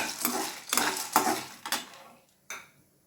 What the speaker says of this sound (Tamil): சுண்டை வத்தல் ஒரு ஐம்பது கிராம் இதையும் போட்டு வதக்குறேன்